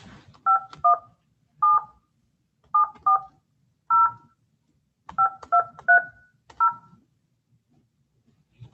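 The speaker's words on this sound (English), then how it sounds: "I'll just dial that number." A phone number is dialed as a series of about eleven short, clean DTMF keypad tones in irregular bursts, with faint room noise and brief pauses between presses.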